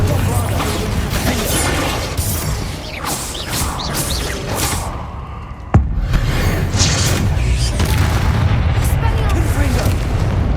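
Confringo fire spell blasts in the video game Hogwarts Legacy, loud booming explosions and crackling bursts in dense battle noise, with one sharp impact mid-way, while a voice speaks over the combat.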